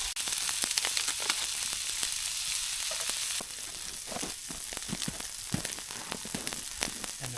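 A can of Bush's baked beans, lid partly opened, sizzles on an open-fire grill outdoors in the country, giving a steady close hiss with frequent sharp crackles and pops throughout.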